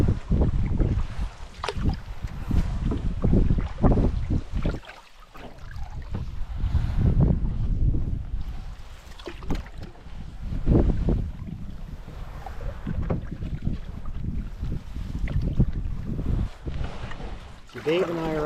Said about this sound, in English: the wind picks up for like 2 or 3 or 4 minutes